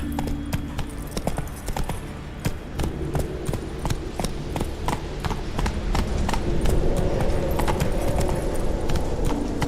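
Geralt's horse Roach gallops in The Witcher 3, hooves drumming in a steady, quick rhythm, loud and close over a low background rumble.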